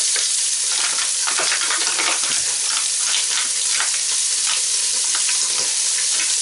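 Loud, continuous sizzling and spitting of bacon lardons frying in hot oil, close up, with no voices.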